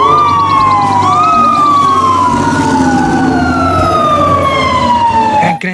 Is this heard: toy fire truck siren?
yes